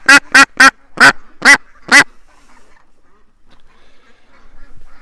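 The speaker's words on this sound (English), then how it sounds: "Give it another quack." A white duck quacks six times close to a directional mic, loud sharp calls in quick succession, then quiet with faint background noise.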